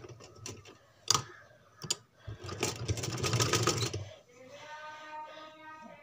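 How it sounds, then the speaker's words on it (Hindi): A sewing machine stitches a frill onto a baby frock, starting with a few sharp clicks and short bursts before a quick two-second run of stitching, then settles into faint mechanical whirring. "ऐसे रखने के बाद यहाँ से सिलाई को शुरू करेंगे"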